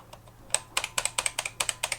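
Keys pressed on a BBC Micro Model B keyboard, where keys such as A, S and D sometimes bind. A quick run of sharp, close plastic clicks sounds alone, speeding into a steady rhythm of presses.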